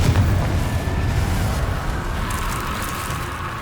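A Confringo fire-blast spell goes off in the Hogwarts Legacy video game, giving a loud booming explosion at the start that rolls into a steady rumbling roar and slowly fades over several seconds.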